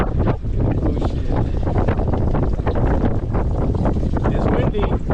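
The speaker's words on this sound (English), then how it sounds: "It is windy, look at that." Strong wind buffets the microphone on a fishing boat out on the water, a loud continuous roar with gusty surges and splashing waves underneath, while people talk over it.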